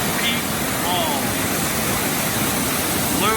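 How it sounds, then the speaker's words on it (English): Green Peak Falls, a dual-tiered waterfall on the Alsea River in Alsea, pours in a steady, dense rush of falling water heard up close, with no break across the whole stretch. "Green Peak Falls,"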